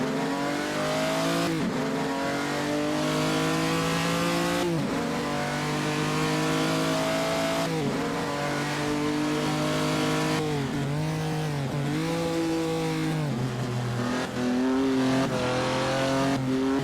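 Engines of 1948 Ferrari racing cars roar in the Assetto Corsa racing game, a loud continuous mid-pitched drone that climbs and drops through repeated gear changes, with occasional tire squeal and no talking.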